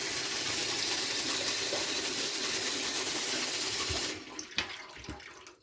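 Tap water runs steadily through a PUR faucet filter at a sink, a loud continuous hiss and splash that stops abruptly near the end, leaving a few faint drips and clicks.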